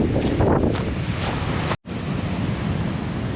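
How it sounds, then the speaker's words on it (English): Sea waves crash and wash steadily over flat coastal rock just above sea level on Scotland's north coast, loud and close, with strong wind buffeting the microphone and one brief dropout midway. "The waves are just crashing there."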